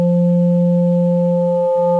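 A synth tone shaped by sine-fold distortion holds a steady, loud, smooth pitch with a few gentle overtones, sounding alone and unchanging throughout.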